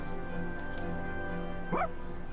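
A dog in the Persona 3 Reload video game gives one short bark over a steady bed of game background music, clear but not loud.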